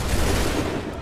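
A musket volley fired by a line of soldiers in Assassin's Creed 3, a loud, dense crackle of many shots merging into one sustained burst that lasts about a second.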